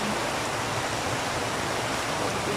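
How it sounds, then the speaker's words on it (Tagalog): Heavy rain with floodwater rushing, a dense even roar of falling water and flowing current, steady and close with no breaks or voices. "Lakas na ulan."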